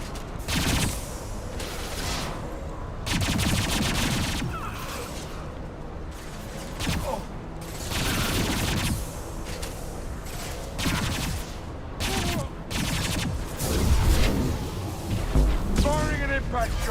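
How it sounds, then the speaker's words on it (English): Repeated bursts of gunfire from an impact shot in a Mass Effect 2 combat, heavy blasts and fusillades close and loud in an unbroken battle din. "Firing an impact shot."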